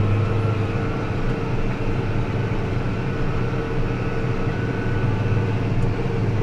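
New Holland T8030 tractor engine heard from the cab on a ride along, a steady low diesel drone with a constant hum and cab rumble, loud and unbroken with no talking.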